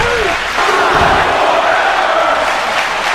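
Wrestling crowd at a live HCCW show roaring and chanting steadily through a match after a near fall, a dense, continuous wash of massed voices with no individual speech standing out.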